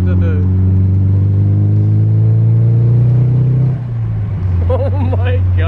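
Nissan 240SX S14 Kouki with a swapped SR20DET turbo engine running up close, a steady low engine drone that sweeps upward under load before easing off, with voices talking over it toward the end.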